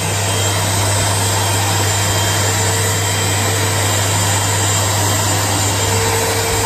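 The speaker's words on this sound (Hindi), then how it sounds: "हेयर ड्रायर का यूज करते हैं।" A hair dryer runs at a steady, loud, continuous whirring hum for several seconds, with no speech over it.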